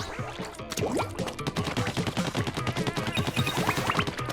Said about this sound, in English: So let's shoot this big green thing, or this big thing, and make it explode